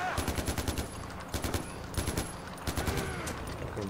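Rapid automatic gunfire in the video game Far Cry 4 comes in loud, clipped bursts of rattling shots with brief pauses between volleys, close and dominant.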